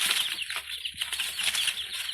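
Chickens and guinea fowl at feed on a homestead flap and rustle continuously at close range, with a dense scratchy flurry of wings and faint clucks throughout.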